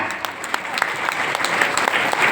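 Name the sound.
audience clapping loudly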